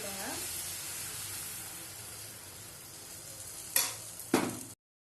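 Sweet paniyaram batter sizzles steadily in hot oil in a pan, a soft continuous frying hiss with two brief scrapes or clinks near the end.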